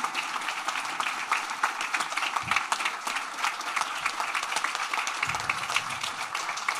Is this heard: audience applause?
yes